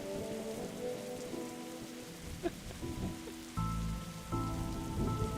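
Steady rainfall in a video game, a dense hiss of drops pattering on surfaces with a few louder splashes and a low rumble underneath, continuous and fairly close, with no voices.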